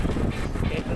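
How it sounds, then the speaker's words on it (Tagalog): Strong wind buffets a headset microphone outdoors, producing a steady, loud low rumble of roaring noise with no pauses for the full second. "at malakas yung hangin"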